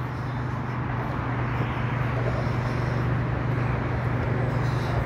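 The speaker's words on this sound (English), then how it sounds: "The roar of the traffic that you hear currently to my left, I believe, is the A10" Road traffic on the A10 sends a continuous, even roar across a sports club ground, heard from a distance with no distinct passing vehicles.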